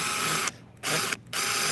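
DeWalt XTREME 12v brushless impact driver (DCF801) on a low-mode setting driving a 5/16 lag bolt, with a near, loud mechanical hammering buzz in three bursts separated by two short pauses and no voices.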